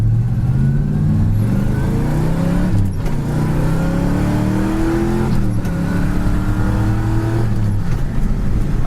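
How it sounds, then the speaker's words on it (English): A 1968 Pontiac GTO accelerating hard, its loud engine heard from inside as it climbs through the gears in rising sweeps with short breaks at each shift, steady and close with no talk. "I was 70 right there, no squealing tires, it just hooks up and goes."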